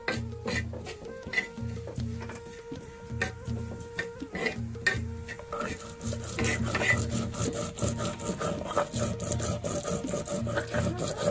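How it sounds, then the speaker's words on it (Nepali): Sesame and tamarillo pickle is ground by hand in a stone mortar, giving rhythmic rubbing and rasping strokes at an even pace, close by, that turn into denser scraping and clatter later on. "मैले चाहिँ अचार पिस्दैछु यहाँनिर"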